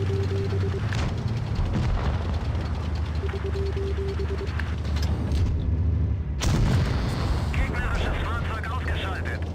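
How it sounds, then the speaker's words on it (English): Tank shell fire in World of Tanks, an E100 hitting an E50M, with loud booming blasts over a constant rumble of battle noise and a sharp crack near the middle. "E50M takes a huge shell from that E100."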